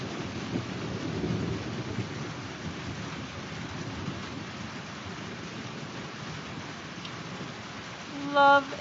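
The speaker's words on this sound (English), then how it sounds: "the thunder I think is really cool" A low roll of thunder rumbles through a summer rainstorm, loudest early and then fading beneath the steady hiss of falling rain, with a brief clatter near the end.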